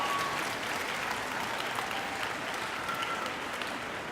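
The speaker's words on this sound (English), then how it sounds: "Graduates, please give a round of applause and thanks to the faculty and staff of the university" University commencement ceremony applause from graduates, a sustained wash of clapping from a large crowd heard at a distance, steady throughout.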